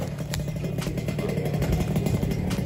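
An ATV engine idles and putters at close range, a steady rough mechanical chug with light clatter at an outdoor highland attraction in Bandung.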